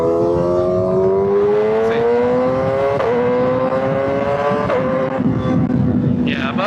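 A 2025 Kawasaki ZX6R motorcycle accelerates hard using the quick shifter, its loud, close engine note climbing steadily in pitch with quick, clean breaks at each upshift.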